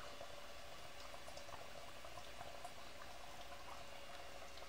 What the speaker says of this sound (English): It is certainly foaming.